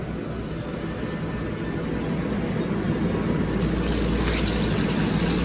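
Water pours and gushes as it drains out in a basement, a steady loud rushing that swells slightly toward the end, with no talk.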